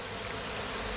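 Honeybees being moved to a new hive give off a loud, dense, continuous buzz, a steady close swarm drone with no pauses and no voices.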